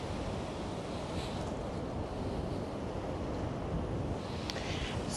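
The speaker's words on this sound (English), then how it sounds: "it's quite windy" Gusting wind buffets the microphone on a grey, overcast seaside pier, a steady broadband roar with faint surf beneath it that carries on without a break the whole time.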